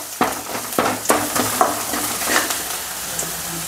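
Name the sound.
garlic and mustard seeds frying in oil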